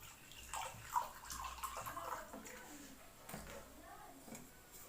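Water pours and gurgles into a jar in quiet, uneven bursts with small sloshes, close and faint, while a voice talks softly over it.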